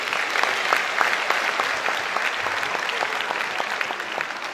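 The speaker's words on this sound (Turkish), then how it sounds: "Onları da bir kez daha bir alkışlayalım." A concert audience applauds musicians at a tribute music night in 2022, steady dense clapping from a large crowd that stays loud and even throughout, with no voices on top.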